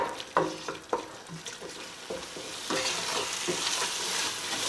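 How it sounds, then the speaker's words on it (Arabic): A spoon stirs and kneads a thick chicken pastilla filling with oil in a hot pan, scraping and tapping at first and then settling into a steady sizzling hiss. "وصافي غادي نبقى نعلك في هاد التغميره حتى تعلك ليا جيدا"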